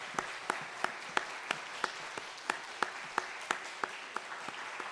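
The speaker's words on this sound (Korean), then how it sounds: "우리 세 분에게 감사와 축복의 박수, 사랑의 박수 함께 해드리겠습니다" A church congregation at a Sunday service applauds to welcome three newcomers, producing soft, rhythmic clapping with regular beats running steadily throughout at low volume.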